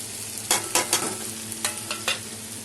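Chilli powder, turmeric and cumin fry with onion and garlic in oil for a Bengali fish curry, a steady close sizzle broken by several sharp scraping stirs of a spoon in the pan.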